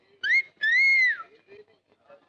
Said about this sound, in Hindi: पारो को सीटी मारता है।